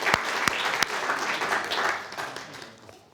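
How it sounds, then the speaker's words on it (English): Audience applause for the judges at the Leaders in Innovation Fellowships final pitches in Indonesia, a full round of clapping that swells with a few sharp claps up front and then gradually fades out. "Can we get a round of applause for our judges as well?"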